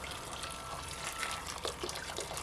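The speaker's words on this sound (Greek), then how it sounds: "Θα βάλω νεράκι" Hot water poured into a pot of one kilo of peeled, cut potatoes makes a soft, steady stream that gushes gently; faint and close, with no talk.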